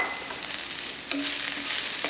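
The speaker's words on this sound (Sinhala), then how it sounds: "මේක රන් පාට බැදීගෙන යනවා" Oil sizzles and crackles steadily in a pan as pumpkin fries, with a brief clatter partway through and no talking.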